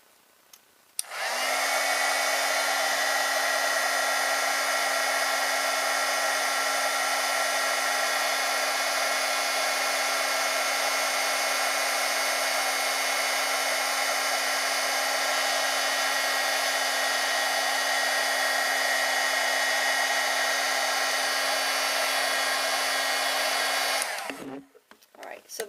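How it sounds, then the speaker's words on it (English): Handheld heat tool blowing hot air over embossing powder on paper, a loud steady whine and rushing hum running unbroken for about 23 seconds, then cutting off. "Now I need to grab my heat tool,"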